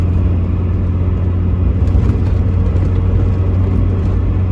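A 1989 Mazda MX5 driving on a road, heard from inside as a loud steady low engine rumble and road roar, constant throughout with no talk.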